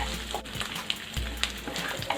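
Garlic and ginger sizzle quietly in hot oil for a prawn pickle, a soft steady crackle with a few small pops and faint stirring.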